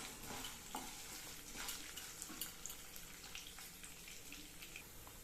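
Black urad dal frying and being stirred in a pan, a faint, steady crackling sizzle with light scraping throughout and no voices.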